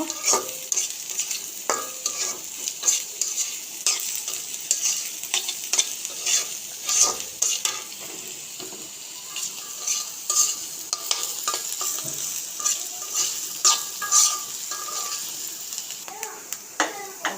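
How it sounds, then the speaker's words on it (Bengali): Onions sizzle steadily in a pan for a baila fish dish, with frequent sharp clinks and scrapes of a spatula stirring them. Faint children's voices sound in the background. "বাইলা মাছের পেঁয়াজগুলি ভাজা নেব"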